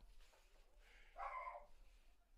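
A dog at a dog-friendly park beside a college baseball game gives a single faint, distant bark that lasts about half a second over quiet outdoor ambience.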